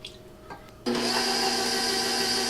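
An electric hand mixer starts up partway through and runs steadily at a loud, even whine, mixing banana nut bread batter of sugar and oil, after a few quieter handling clicks.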